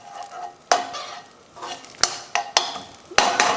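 Tuna pasta with basil soffritto is stirred in a pan over a soft sizzle, with several sharp scraping clacks of the utensil against the pan at irregular intervals; no one speaks.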